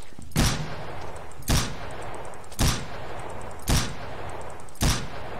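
Five evenly spaced, loud super pistol shots ring out in Paint the Town Red, each a sharp crack with a short tail, about one second apart and heard alone.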